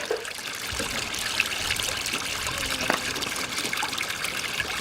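Apple cider liquor runs out of a cider press in a steady, close trickle and gush of liquid, continuous and fairly loud, with faint background noise.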